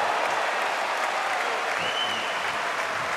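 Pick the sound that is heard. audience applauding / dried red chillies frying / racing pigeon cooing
audience applauding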